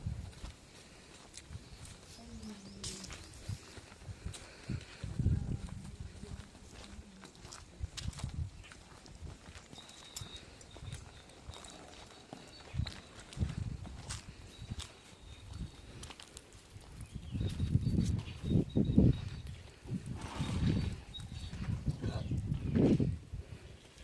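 Buffaloes are led along to drinking water, their heavy hooves making scattered dull thuds and shuffles that grow louder and closer toward the end, with voices talking around them.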